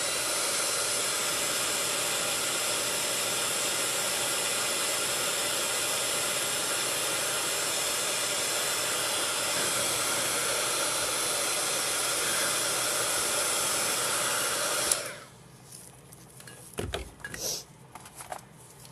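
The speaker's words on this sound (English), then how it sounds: "I just hit them with the heat gun real quick" A heat gun blasts hot air onto fabric cups in a steady, loud broadband rush that runs unbroken for about fifteen seconds, then cuts off, leaving faint handling clatter.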